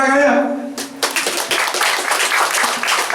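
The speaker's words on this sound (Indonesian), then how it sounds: "Tepuk tangannya." An audience bursts into applause at an Indonesian grape-farming talk, with loud, dense clapping right after a voice ends.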